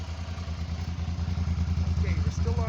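A Suzuki DL-650 adventure touring motorcycle with a stock exhaust runs on fast idle, giving a steady, rapid, low pulsing thrum up close. Someone talks over it.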